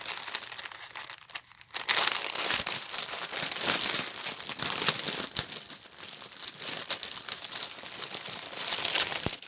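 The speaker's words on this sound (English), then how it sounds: "Get rid of that crinkly bag" A crinkly plastic bag from a pre-stamped cross stitch kit is handled up close, giving a dense, continuous crackling rustle with sharp crinkles that starts after a short quiet stretch and carries on throughout.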